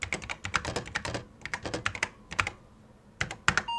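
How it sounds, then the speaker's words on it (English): Clicky keystrokes on an Apple IIe computer keyboard, close and fairly quiet, typed in quick bursts of irregular taps with short pauses between runs. "here's that quick typing demonstration I mentioned"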